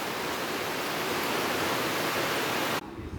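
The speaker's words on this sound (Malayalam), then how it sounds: "അപ്പോൾ നല്ലൊരു മഴയും പെയ്തുകൊണ്ടിരിക്കും ഇപ്പോൾ" Steady rain pours down at a rural Kerala home while fish curry simmers, a dense continuous hiss filling the space close by before cutting off abruptly near the end.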